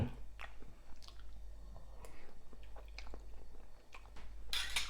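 A bite of khanom jeen rice noodles with beef curry is chewed close up in soft, irregular wet bursts over a low hum.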